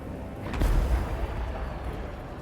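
A Hell Cannon artillery piece fires in the Total War: Warhammer 2 video game, giving a single deep, heavy boom that swells early and then fades into a low rumble, with no voices.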